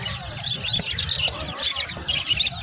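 Harsh goose squawks repeat over a busy outdoor Sunday market bustle in Kundrathur, Chennai, with people talking and traffic murmuring in the background.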